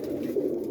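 Boston ripping roller pigeons coo in a steady, low, throaty murmur that runs without a break through the short moment, close by and moderately loud, with no voices.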